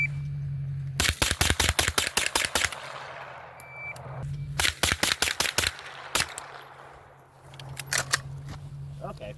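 A Scorpion PCC fitted with an F5 drum magazine and an Omega 9K suppressor fires two rapid bursts of sharp suppressed shots, then a shorter third string, with mechanical clacks and faint talk between.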